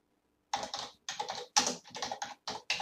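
A command being typed on a computer keyboard while working with a USB pendrive volume: close, crisp keystrokes arrive in quick bursts of several clicks, separated by short pauses, in an otherwise silent room.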